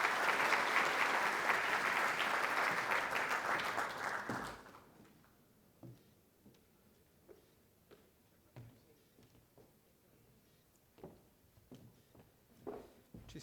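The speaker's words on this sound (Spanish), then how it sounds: "Recibamos entonces con un gran aplauso a nuestro invitado especial, Shlomo Ben-Ami." Conference audience at an annual chamber of commerce congress applauding to welcome a guest speaker: loud, dense clapping for about four seconds, then cutting off to a quiet room with scattered faint knocks and footsteps.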